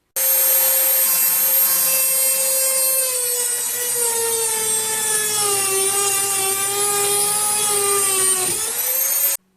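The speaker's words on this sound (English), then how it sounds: "What I do have is a diamond blade on my Dremel, and we're just going to do a few cuts" A Dremel rotary tool fitted with a diamond blade cutting a Hyundai Veloster N mesh grille gives a steady high-pitched whine and grinding buzz, close and loud, running unbroken for about nine seconds before stopping abruptly.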